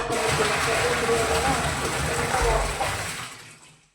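Water running into a top-load washing machine with detergent added, a steady rushing pour that holds strong and then tapers away near the end.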